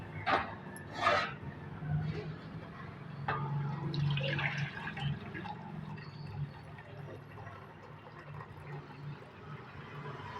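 Water splashes and pours into a thick-bottomed cooker set on heat, measured with a bowl, a few sloshing bursts followed by a quieter continuous trickle and faint clinks.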